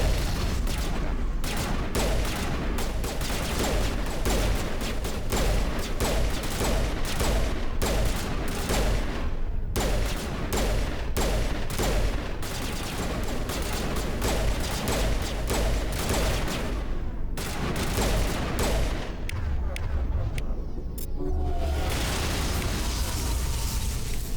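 Heavy gunfire and explosions in the Mass Effect Legendary Edition video game, dense rapid bursts and booms that stay loud and nearly continuous for the whole stretch.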